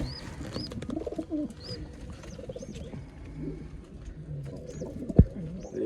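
Pigeons coo repeatedly in a loft in low, throaty bursts, with scattered chirps and rustling around them and one sharp knock near the end.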